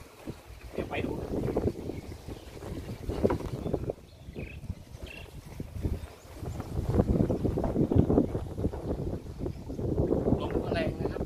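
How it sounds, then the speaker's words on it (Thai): Strong wind buffeting the microphone at Lampam Beach, a steady rumbling roar that swells and fades in gusts throughout, with someone talking over it. "ลมแรงนะครับ"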